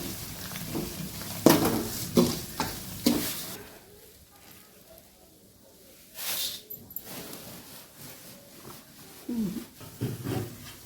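Tempering (popu) sizzles in a pan as it is stirred, with bursts of crackling and scraping at the start, a quieter lull, then renewed sizzling and stirring sounds.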